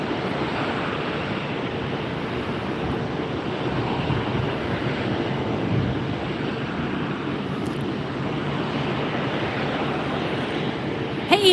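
A Southwest Boeing 737 in Colorado One livery, the 5,000th 737 built, rumbles at Tampa airport at night; its jet engine roar is a steady broadband wash that holds evenly throughout at moderate distance.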